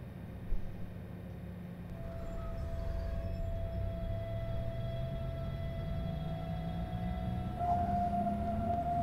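BR 423 S-Bahn electric train running in the Train Sim World 3 video game on the Munich S3 line, a steady rumbling drive with a rising motor whine and a long thin tone, heard fairly quietly with no talk.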